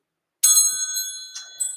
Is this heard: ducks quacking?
no